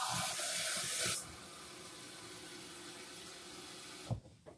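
Tap water runs steadily into a bowl for a dry crock-pot sourdough pasta dish, a broad rushing hiss that is loud at the start, settles into a softer continuous stream and then ends with a light clunk.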